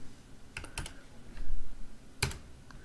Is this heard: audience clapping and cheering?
no